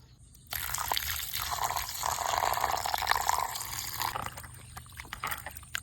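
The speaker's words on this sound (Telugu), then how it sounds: "చికెన్ శుభ్రంగా కడుక్కోవాలి." Running water splashes and trickles steadily as raw chicken is washed for chicken pakodi in a home kitchen, a close continuous pour lasting several seconds before tapering off.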